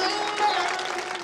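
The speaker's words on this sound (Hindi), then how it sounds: "ताली बजाइए" Applause from an audience at a religious gathering, a dense steady wash of many hands clapping for just over a second without a break.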